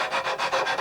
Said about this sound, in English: I'll just do that with a sanding block